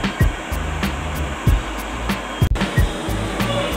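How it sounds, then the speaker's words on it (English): An automatic hand dryer at a children's science center blows a strong, steady rush of air, close and loud, with rhythmic thumps and clicks from nearby exhibit machinery. "Even an automatic dryer."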